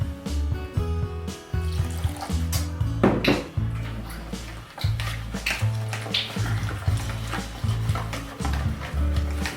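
Water pours and splashes as it is added to fish pakora batter in a bowl, a steady trickle running for several seconds alongside background music with occasional clinks.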